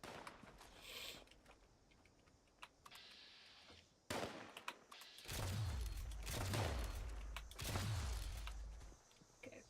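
Gunfire in the Fallout 76 video game comes first as a few faint scattered shots, then several loud, heavy bursts of rapid fire.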